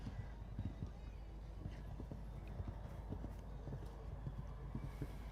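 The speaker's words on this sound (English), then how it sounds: "This horse giving an exhibition and Absolutely just cantering around. masterfully piloted by Shayton Hendricks." A horse canters around a show jumping course at Robberg Equestrian Park, its hoofbeats thudding in a quick, regular rhythm on the ground, quiet and somewhat distant amid faint background murmur.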